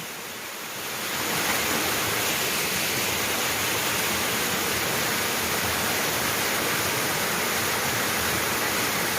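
Loud, constant rushing of fast-flowing floodwater that swells up within the first second and then holds as a dense, unbroken roar, close by.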